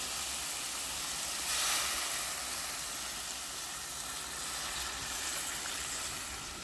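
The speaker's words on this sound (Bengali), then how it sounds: "পোয়া মাছটাকে ঝোল দিয়ে দিচ্ছি।" Broth poured into a pan where poya fish simmers, producing a continuous close hiss and sizzle with a brief louder surge early on, no voices.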